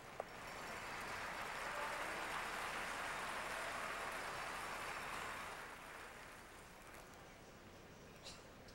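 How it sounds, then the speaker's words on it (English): Crowd at a Ford World Curling Championship gold medal game between Scotland and another team, applauding a good shot: sustained clapping and cheering swells, holds for several seconds, then fades, with a commentator speaking. "It's hard to tell who they're actually cheering for because they're cheering for both teams"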